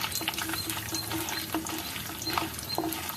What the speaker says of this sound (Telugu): పోపు కొంచెం వేగాలండి.